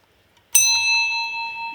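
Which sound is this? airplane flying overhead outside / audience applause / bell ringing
bell ringing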